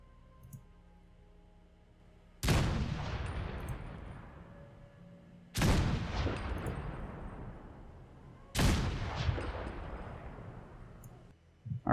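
A PTRS-41 anti-tank sniper rifle firing 14.5mm explosive rounds in Fallout 4 booms three times, evenly spaced, each a loud blast with a long rumbling tail that fades before the next shot; no one speaks.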